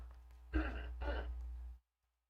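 Two short, rough throat-clearing bursts in quick succession, close up, followed by silence.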